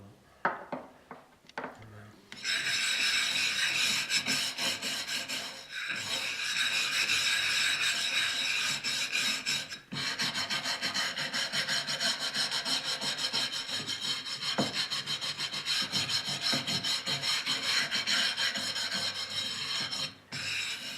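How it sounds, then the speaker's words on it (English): Continuous harsh, aggressive scrubbing of a stiff nylon-bristle brush rubbed back and forth over porcelain, loud and close, with only brief pauses. "the final rub is with a bristle brush, or nylon or bristle"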